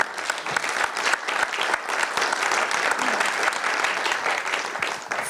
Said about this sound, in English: So let me, I invite you to join me in applauding the panel members.